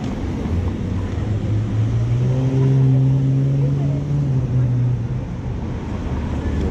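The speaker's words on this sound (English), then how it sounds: "Cars driving by" Traffic passes on a road, one car sweeping by with a rising then falling drone that swells near the middle and fades, over a continuous low roar.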